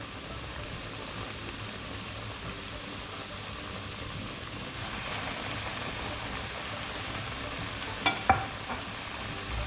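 Food frying in hot oil on a medium flame for a KFC-style Zinger burger, a steady soft crackle and sizzle that is fairly faint, with a couple of small pops near the end.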